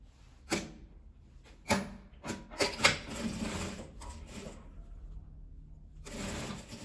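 A sewing machine stitches a fabric lining into a small patchwork toiletry bag, running in several short bursts of rapid mechanical chatter separated by pauses, close and clear, with a longer steady run at the end.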